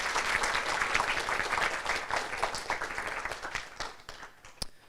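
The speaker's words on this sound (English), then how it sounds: "could we please give a round of applause for them as well?" Audience applause for Career Development Centre staff at a university careers evening, a dense round of clapping that holds steady, then thins and fades toward the end with a few last claps.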